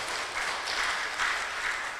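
A congregation at an HKBP church gathering in Batam claps in a moderate, fairly distant wave of applause with a few slightly louder swells, no speech over it.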